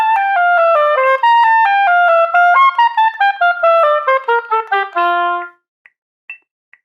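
An oboe plays measures 13 and 14 of an all-region etude, a continuous descending run of slurred and tongued notes ending on a held low tone, then brief faint clicks follow; no talking.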